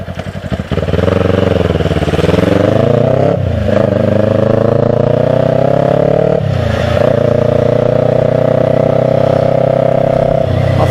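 A loud, close 2020 Kawasaki Ninja 400 motorcycle with only a bare pipe exhaust, idling and then revving in sustained surges, with a sharp blip around the middle and a steady high drone throughout.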